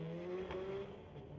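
Subaru BRZ and Honda Civic hatchback launching off the line at Mission Raceway Park drag strip, heard as a brief, fairly faint burst of engine tone climbing in pitch.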